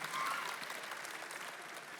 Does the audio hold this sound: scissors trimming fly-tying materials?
no